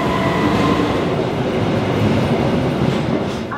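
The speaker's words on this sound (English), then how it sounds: "We're gonna be taking the morning train up to Jakarta" A panoramic passenger train between Bandung and Jakarta, Indonesia, rumbles along steadily, with a continuous rolling roar and faint rhythmic wheel clatter, no talking.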